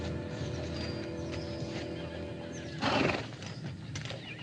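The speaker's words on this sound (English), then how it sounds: "You make a mighty fine cavalry horse." A cavalry horse in an old Western gives a short, loud neigh amid stamping hooves and background noise, the whinny rising briefly near the middle.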